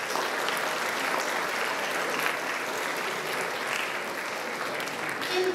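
A round of applause rolls through a school assembly, a thick, even wash of many students clapping at once, sustained and fairly distant with no break.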